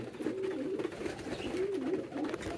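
Pigeons coo steadily while feeding on the ground, their soft rolling calls repeating close by with no talking.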